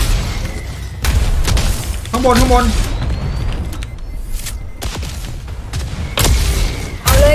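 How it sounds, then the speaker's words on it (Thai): Cannon fire in the video game Midnight Ghost Hunt: several heavy booms at irregular intervals, loud and close, over constant excited talking. "ปืนใหญ่"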